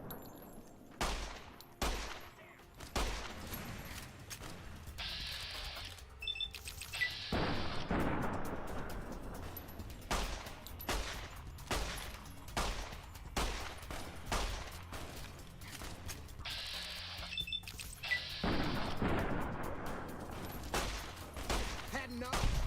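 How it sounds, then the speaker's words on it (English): Gunfire in Fallout: New Vegas, bursts of rapid shots and sharp single reports in loud clusters with brief pauses between, close and punchy, with a voice talking faintly at times. "I'm shooting his weapon."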